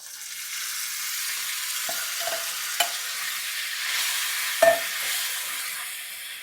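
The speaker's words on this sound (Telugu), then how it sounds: "ఇదిగోండి కొంచెం బాగా వేగాలన్నమాట" Food sizzles steadily in a hot pan, a continuous frying hiss broken by a few sharp clinks and scrapes of stirring, close and alone without talk.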